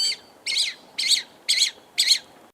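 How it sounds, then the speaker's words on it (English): A blood pheasant of the southwestern Chinese highlands calls in five evenly spaced, loud, harsh bursts, each about a quarter second long, repeated every half second against a quiet background. "the blood pheasant, Ithagenus cruentus, haunts the highlands of southwestern China"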